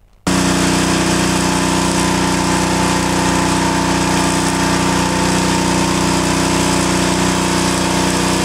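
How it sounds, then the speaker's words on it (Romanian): Firefighters' motor pumps run steadily while pumping floodwater out of yards and cellars, a loud, close, constant engine drone that starts abruptly and holds without a break. "Pompierii Câmpul Ungeni au intervenit cu motopompe pentru evacuarea apei."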